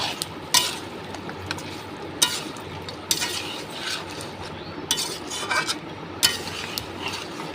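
Spiced meat curry is stirred and sautéed in a pan, a bed of sizzling under sharp, irregular scrapes and clanks of a spatula against metal, close with no voices.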